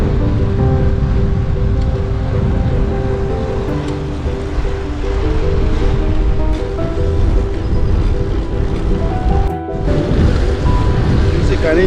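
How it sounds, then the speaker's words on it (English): Strong wind buffeting a cyclist's microphone while riding across the Dutch inner sea toward Lelystad on a cloudy, cold day, a loud continuous roar with gusty swells and a brief dropout near the end. "Finally, the wind is pushing us a little bit"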